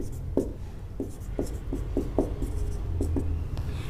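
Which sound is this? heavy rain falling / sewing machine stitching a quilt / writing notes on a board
writing notes on a board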